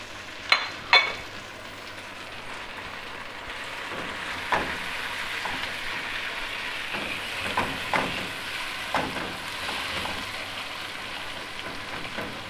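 About three medium-sized chopped tomatoes sizzle in a pan while a kidney bean curry masala cooks, giving a steady frying crackle broken by occasional scrapes and stirring knocks.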